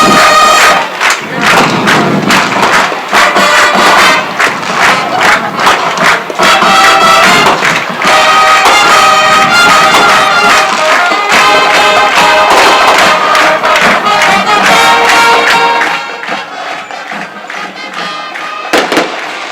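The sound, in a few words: fireworks at a football game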